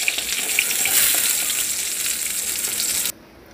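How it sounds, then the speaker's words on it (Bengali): Fish frying in hot oil for a Bengali fish kalia, a steady bright sizzle that runs for about three seconds and then drops off abruptly, with no voices. "বাকি মাছগুলো আমি এইভাবে ভেজে নেব"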